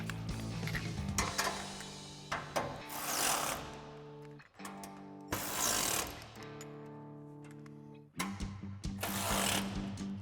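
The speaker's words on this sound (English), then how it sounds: "then we'll tighten our front 3 bolts. They are 5mm Allen and a 13mm wrench." Bolts on a front pre-runner bumper with skid plate for a 2013-2018 RAM 1500 being tightened with a 5mm Allen key and 13mm wrench, giving bursts of close mechanical whirring and ratcheting separated by brief pauses.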